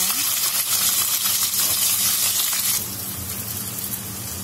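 Onions tipped into hot sesame oil with bay leaf, cumin and peppercorns for a mutton curry burst into a loud, close hissing sizzle that soon settles into a steadier, softer frying sound.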